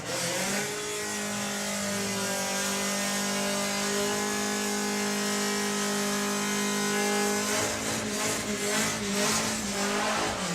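Drag cars launching hard down the strip at a Sunday national event, a loud sustained engine roar with rising harmonic pitch as they accelerate away, easing off near the end.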